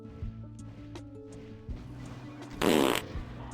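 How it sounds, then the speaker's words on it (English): A fart sound effect bursts out loudly for about half a second during Elden Ring DLC gameplay, standing out over steady game background noise and scattered thuds. "Don't fart on my stream!"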